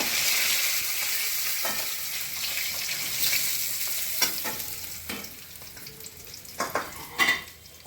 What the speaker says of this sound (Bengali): প্রথমে আমি মাছগুলো ভেজে নিচ্ছি